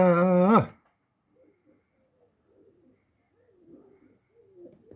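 A short loud bird call opens, followed by soft, low coos of Mardin pigeons repeating intermittently, faint and close by.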